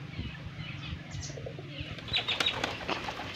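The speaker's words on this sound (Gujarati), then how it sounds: "વાયર હોય ને પેલું મેન્યુ ઉડ્યું એમાં કબૂતર ઉડી જાય" Pigeons taking off together, a burst of flapping wings close by with faint cooing and chirps among the flock.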